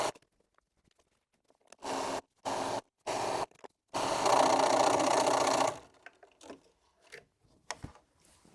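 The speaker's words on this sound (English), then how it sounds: "And now I'm going to sew my 2 long pieces," A sewing machine stitches two long pieces of a mini-charm checkered cushion top, running in three quick bursts and then one longer steady whirring run, close and clear with no talk.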